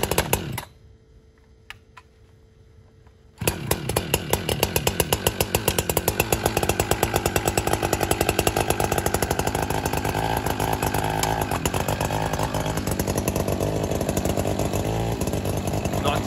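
Echo CS-620 chainsaw cutting firewood outdoors in cold weather: after a brief quiet idle, the engine revs up loud and close and holds a steady buzzing roar to the end.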